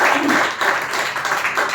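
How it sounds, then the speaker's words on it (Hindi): Brief burst of audience clapping at an office foundation-day gathering on World Environment Day, dense and fairly loud, pulsing in uneven waves across under two seconds. "इसीलिए एक बार जोरदार तालियां अपने लिए बजा दो।"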